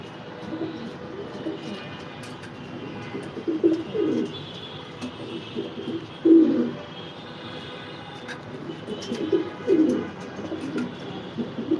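Racing pigeons coo in a dirty loft cage, a few soft rolling calls rising at intervals over a steady low background hum, with faint chirps scattered throughout and no voices.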